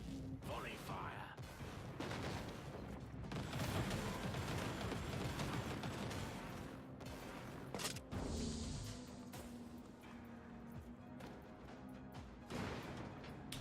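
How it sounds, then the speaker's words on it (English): Volley fire rattles in the video game Inquisitor Martyr, a dense stretch of overlapping gunshots and crashing impacts with a few sharp cracks later on, while a voice talks over the battle. "Volley fire."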